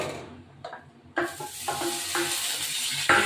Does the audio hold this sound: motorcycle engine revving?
no